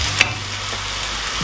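Minced garlic and cumin frying in a pan with browned onions for a Lebanese-inspired green bean stew, a close, continuous sizzle with a quick spoon scrape early on.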